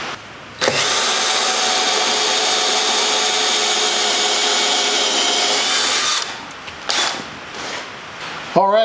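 An old Bauer impact driver whirs loudly and steadily as it drives lag screws into wood for a goat milking stand, one long continuous run up close, followed by shorter bursts and a voice at the end.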